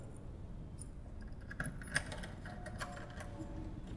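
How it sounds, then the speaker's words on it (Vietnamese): Spare keys jangle faintly as a lock is opened, with a few light metallic clinks and rattles clustered in the middle of an otherwise quiet, low background. "Từ, xuống lấy chìa khóa phụ cho bà."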